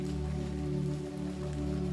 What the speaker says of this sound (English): It's unlikely there will be a break in the rain today, she thinks.